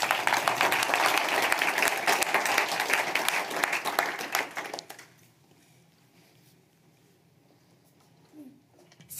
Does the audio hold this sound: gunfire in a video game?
no